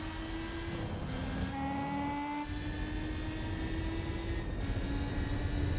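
A muscle car engine in the racing game Gran Turismo 4 drones at a steady high pitch, with brief dips as gears change, then holds a sustained loud whine with no one speaking.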